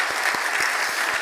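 Church congregation claps together during a Thanksgiving worship service, a steady, fairly loud wash of applause with a few distinct claps and faint voices beneath.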